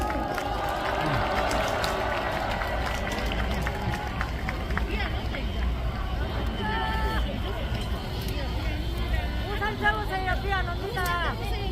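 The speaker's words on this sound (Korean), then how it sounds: "여러분 큰 박수로 맞이해주십시오" A crowd at an outdoor political rally in Korea greets a speaker with continuous clapping and cheering, busy and dense, with voices and some shouting mixed through the noise.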